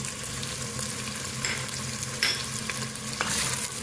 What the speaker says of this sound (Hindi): इसको भूनेंगे तेज आंच पे ताकि चिकन की स्मेल खत्म हो सके।